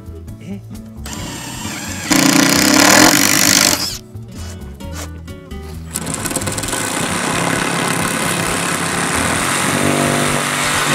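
A heavy, large-diameter power drill cuts into a damaged bamboo charcoal kiln during repair, whirring loudly nearby in two long bursts with a brief pause between them.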